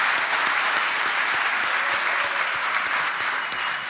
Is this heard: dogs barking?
no